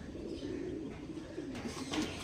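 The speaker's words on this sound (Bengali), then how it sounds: "এটা হচ্ছে বড়ো পায়রা" Pigeons coo softly nearby, low rolling coos that repeat through a quiet stretch, with a faint rustle near the end.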